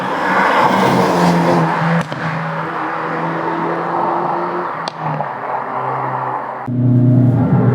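A Hyundai i30 N Fastback 275 hp engine drones and revs steadily, with a few sharp cracks and pops from the exhaust breaking through the rumble.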